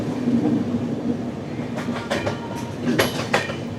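The Hubballi-Hyderabad Express rolls along the line toward Hyderabad, heard from on board as a steady rumble with rhythmic clickety-clack wheel beats over rail joints.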